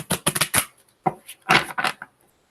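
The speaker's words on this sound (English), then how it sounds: "One more shuffle for Leo." Quick riffling snaps of tarot cards being shuffled, two fast bursts separated by a brief pause, close and crisp.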